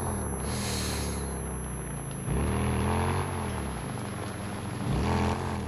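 Motorcycle engine in Days Gone, a steady droning hum with pitch rising and falling as the rider revs and shifts, plus a brief hiss early on; no talk over it.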